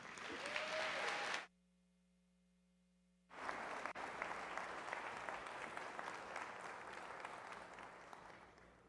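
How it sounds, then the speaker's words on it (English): Audience applause at the Sherman College 141st commencement ceremony, greeting the college president Dr. Edwin Cordero: dense, loud clapping that breaks off abruptly into near silence, then resumes as a sustained steady roar to the end. "Give a round of applause to El Presidente, Dr. Edwin Cordero."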